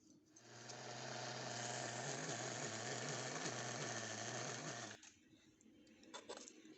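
A grinder runs loudly and steadily while blending homemade Nutella, then cuts off abruptly, leaving faint clatter.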